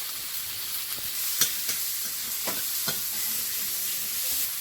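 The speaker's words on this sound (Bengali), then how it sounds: "এবার চিংড়িটা ভালো করে ভেজে নিয়েছি" Prawns seasoned with salt and a little turmeric fry in a pan with a steady, fairly loud sizzle, broken by a few soft scraping knocks as they are stirred.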